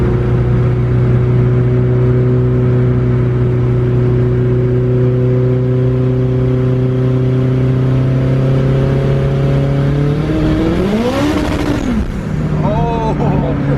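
A car engine drones steadily as it is brought up to speed in 4th gear, then swells into a hard rising rev near the end as the driver floors it to break the tires loose, loud and close from inside the cabin.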